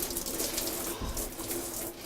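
Gas-heated hot shower running at a tea house in Dingboche on the Everest trek, a steady hiss of falling water heard close up.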